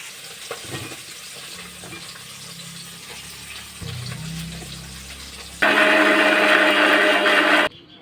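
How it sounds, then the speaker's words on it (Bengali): An electric mixer grinder blends green chillies, onion and ginger in its jar, a loud whirring roar that bursts in after quieter kitchen handling noises and runs for about two seconds before cutting off. "তো এগুলোকে সব মিক্সার জারে দিয়ে দেবো"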